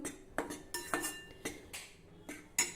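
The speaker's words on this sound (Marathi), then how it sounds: "ही कणिक भाजताना आपल्याला सतत परतत राहायचं आहे" Dry wheat flour dough being stirred and roasted in a pan for fakki: a quiet series of irregular scraping clinks of a metal spatula against the pan, close and without talk.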